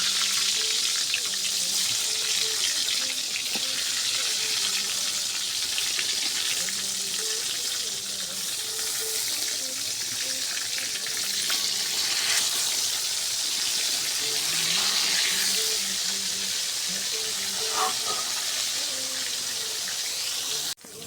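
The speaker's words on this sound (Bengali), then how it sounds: "এখন আমি বেগুনগুলো সব ভাজে নেব" Eggplant slices, marinated with chilli and salt, frying in oil over low heat give off a steady, loud, continuous sizzle that lasts throughout without a break.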